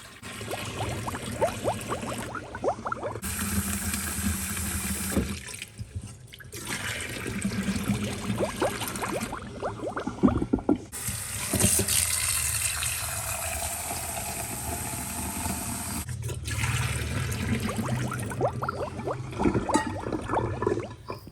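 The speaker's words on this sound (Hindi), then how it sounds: "ये स्टील के 3 मग मैं डालूंगी इस सिंक में" Water from large steel mugs pours and gushes steadily into a kitchen sink and down the drain, a loud continuous rush broken by a few short pauses between pours.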